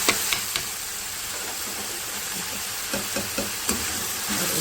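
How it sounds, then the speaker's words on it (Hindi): Achari spices sizzling in hot oil with garlic and ginger, a soft steady hiss broken by a few light knocks and clicks of stirring, heard close with no talking. "इसके साथ भी इसको थोड़ा सा फ्राई करूँगी ताकि मसालों की खुशबू निकल आए"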